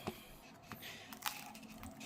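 A knife cuts through Don Lee Farms crispy shredded chicken tacos, giving a few faint, close crunches and crackles spread across a quiet moment.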